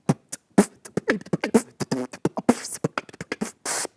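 A voice imitates drums with quick mouth percussion: sharp kick thumps, snappy snares and hissing hi-hats in a fast, punchy rhythm.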